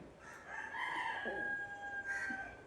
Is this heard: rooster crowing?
yes